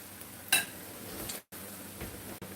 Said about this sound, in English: We're going to let these fry a minute.